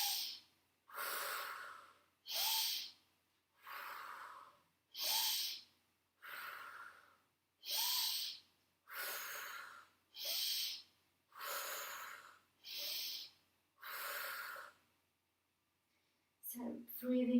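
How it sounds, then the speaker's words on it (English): Breathing in and out during a Pilates exercise for hip and knee problems, a dozen steady close breaths in an even rhythm with short quiet gaps, followed by a brief voice at the end. "So breathing out as we take the top leg up, breathing in, out as you take the bottom leg up, breathing in"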